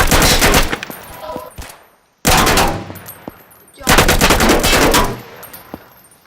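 Loud automatic gunfire in the Roblox video game, with three rapid sustained bursts of shots separated by brief silences and echoing tails.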